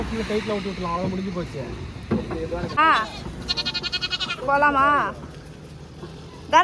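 A goat with a broken tail bleats several times, wavering cries close by, and voices talk around and between the calls.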